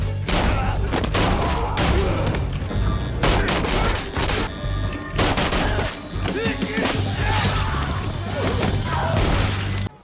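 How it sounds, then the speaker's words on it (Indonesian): A fierce gunfight scene in an action film: repeated bursts of gunshots and automatic fire crack out over a dense cinematic mix, with shattering, crashing impacts scattered throughout. "Aksi baku tembak pun tidak bisa dielakkan lagi."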